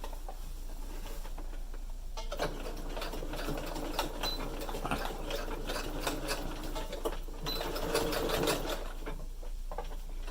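A sewing machine runs a quick straight stitch to attach elastic to a fabric pocket face mask, its fast rattling needle chatter continuing close up through short bursts and pauses.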